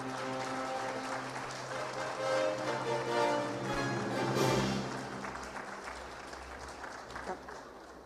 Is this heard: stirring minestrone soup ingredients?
no